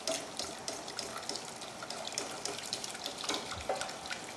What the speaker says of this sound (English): Then you're going to take the simple syrup. And Carrie, if you could just pour that in slowly for me